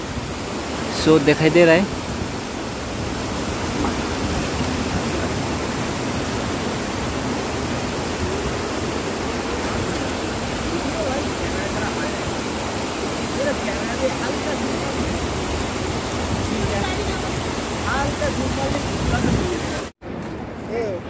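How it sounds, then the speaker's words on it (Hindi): Kanchi waterfall on the road from Chungthang to Lachen in North Sikkim gives a loud, steady roar of rushing water that fills the whole scene, with a person speaking briefly over it. "ये on the way Chungthang to Lachen north Sikkim का कंची झरना है"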